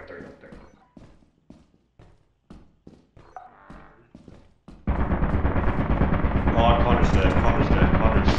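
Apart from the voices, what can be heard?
turret gunfire in the video game Lethal Company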